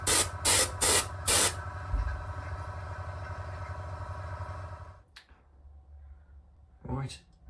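Aerosol undercoat sprayed in four short, loud bursts onto a small repaired area of a shower basin, followed by a lingering hiss and room noise, with a faint clatter near the end.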